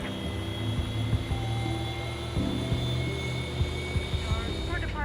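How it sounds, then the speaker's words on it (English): Boeing 737-800 engines spooling up during pushback in the X-Plane 11 flight simulator, a steady loud jet drone with tonal whine and faint clicks running throughout, under occasional cockpit-style sounds. "Starting pushback, and you may start engines."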